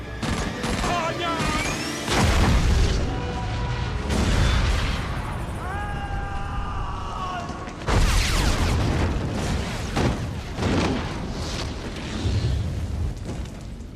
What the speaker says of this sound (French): Ça va exploser vite.